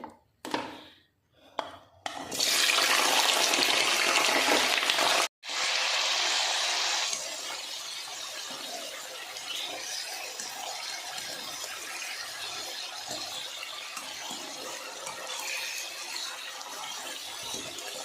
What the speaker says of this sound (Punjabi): ਹੁਣ ਅਸੀਂ ਸਭ ਤੋਂ ਪਹਿਲਾਂ ਅਰਬੀ ਨੂੰ ਫਰਾਈ ਕਰਦੇ ਹਾਂ